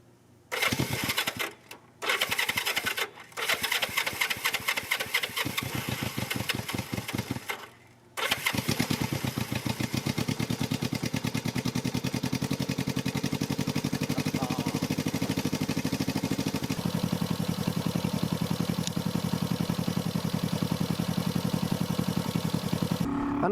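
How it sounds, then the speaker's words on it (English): A Honda CB350 motorcycle engine sputters through a few short bursts with brief gaps, then fires up and settles into a steady, loud running idle close by. "Let's see if my little junky bike will fire up."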